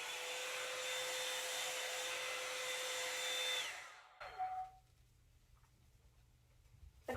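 A Revlon One-Step Volumizer hair dryer brush runs with a steady, loud whirring blow for about four seconds, then switches off, leaving faint handling noises and quiet room tone.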